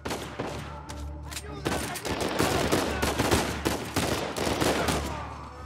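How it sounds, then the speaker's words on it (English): Rapid bursts of gunfire in Uncharted 4's prison-break mission, loud and dense over a continuous low game rumble, with scattered shots and volleys running throughout. "Wait, can I shoot him? I just shot a fucking..."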